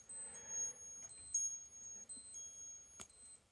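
A Seiko 7T32-7E50 quartz pilot chronograph sounds its alarm in thin, faint, high-pitched beeps in short bursts in a quiet room, with a brief handling knock near the end.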